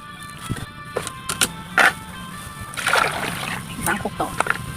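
Liquid is poured into a cooking pot for Thai khilek curry, several short splashes and sloshes at close range under someone talking.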